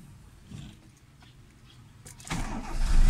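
A hard-starting Toyota Corolla cranks to life after the gas pedal is pumped four times; quiet rumbling gives way to a sudden, loud engine roar in the final second, with no talking.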